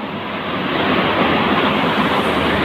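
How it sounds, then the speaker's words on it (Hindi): Water rushes steadily at a village waterfall, a loud, continuous broadband roar that fills the scene close by, with no voices over it. "इतना ज़्यादा पानी है यहाँ पे"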